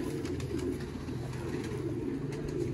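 Ferozpuri pigeons of A+ quality coo steadily in a low, continuous murmur, several birds overlapping close by with no talk.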